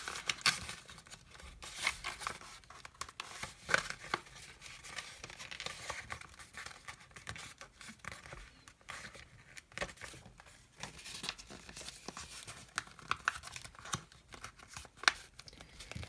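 Sheets of paper being creased and folded into an Action 90 paper airplane, a steady run of soft crinkles, rustles and brief sharp snaps close by, with no talking.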